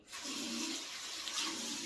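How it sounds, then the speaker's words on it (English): Running water splashes steadily from a tap onto hair during washing, a close, continuous hiss for about two seconds with no voices. "So first, I usually make my hair wet with some water"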